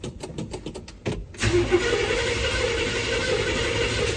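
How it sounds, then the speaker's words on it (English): A car engine fitted with a new radiator, its carburetor unprimed, cranks with quick rhythmic starter pulses and catches, settling into a steady near idle. "let's see if this thing will fire off"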